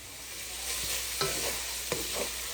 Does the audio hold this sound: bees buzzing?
no